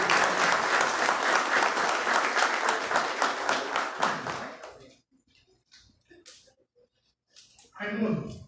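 A crowd at a city council ceremony awarding honorary citizenship titles breaks into loud, close applause that lasts about four seconds, then thins to a few scattered claps and brief murmurs before a voice begins speaking.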